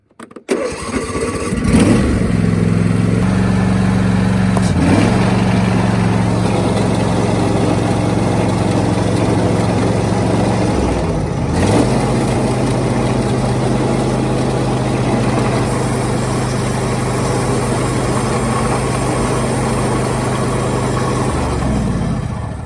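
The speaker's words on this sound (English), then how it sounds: "So let's start up the mower and see how much more quiet the bearings are sounding." A John Deere 100 Series riding mower engine cranks and fires, then runs steadily at a loud, even idle with a brief dip in speed partway through, with newly replaced deck spindle bearings and no talking.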